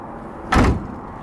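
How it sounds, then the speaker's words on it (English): A car door shuts with one solid thud on a 1971 Cadillac Fleetwood factory limousine, a single close impact over a quiet background. "Doors open and close nicely."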